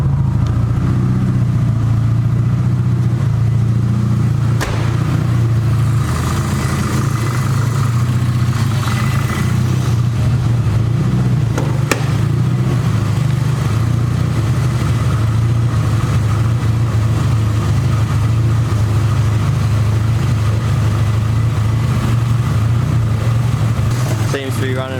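A Nissan S14 drift car engine idles steadily and loudly throughout, a continuous low rumble close by with a couple of brief sharper clicks or knocks, and no talk over it.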